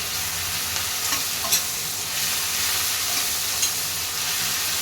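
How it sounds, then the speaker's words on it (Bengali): Ginger-garlic paste frying in a pan over softened onions for a Bengali rui fish kalia, a steady close sizzle with occasional light stirring scrapes and clicks, no talking. "এটাকে দিয়ে একটুক্ষণ ভেজে নেব যাতে কাঁচা গন্ধটা না থাকে"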